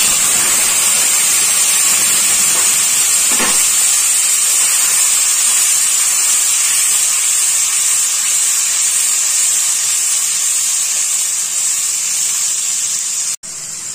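Spice paste hits hot oil in a pan while cooking Bengali chitol fish kalia, giving a loud, steady, close sizzle and hiss that holds for the whole stretch before cutting off abruptly near the end.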